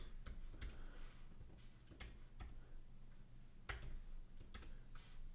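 Computer keyboard typing code in short bursts of quiet clicks and taps, with irregular pauses between keystrokes, heard faint and close in a quiet room.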